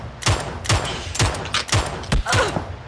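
Video game gunfire as a player shoots out car tires: about seven sharp, loud shots in an uneven, rapid rhythm, each a broadband crack with a low thump.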